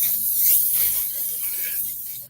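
A steady hiss of aerosol spray aimed at a thorn, lasting a couple of seconds close to the microphone, with no talking.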